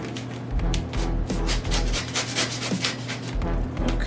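A box is sliced open with an unboxing knife during a floor lamp unboxing, giving close, repeated scraping and rubbing strokes of the blade through cardboard and tape, with a steady low hum underneath.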